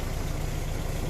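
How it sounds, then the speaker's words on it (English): A VW Golf IV engine idles close by after a new filter has been fitted. The low, even, continuous rumble holds steady throughout, with no voices. "New filter installed, so the engine is running"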